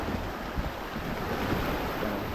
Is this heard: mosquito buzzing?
no